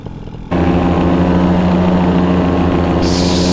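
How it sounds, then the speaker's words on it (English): A paramotor engine drones loudly and close in flight, kicking in abruptly after a brief quieter moment and holding a steady, buzzing propeller roar. "Motor sounds like it's about to die."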